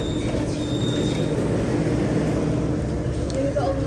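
Metro train at an enclosed platform in Guangzhou, a steady low rumble and hum of rolling stock close by, with a brief squeal near the end and a voice talking over it.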